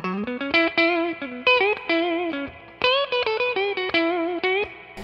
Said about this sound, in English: So now let's test these pedals out with the clean tone.